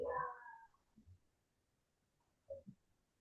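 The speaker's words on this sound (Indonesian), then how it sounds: "Kucing kampung." A domestic village cat gives one clear, close meow at the start, followed by a couple of softer, shorter mews in an otherwise quiet room.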